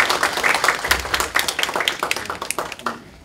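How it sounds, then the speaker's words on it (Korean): An audience at a forum on self-driving cars bursts into brisk, close applause to welcome a speaker, a dense patter of claps that thins out and stops after a few seconds. "큰 박수로 환영해 주시죠"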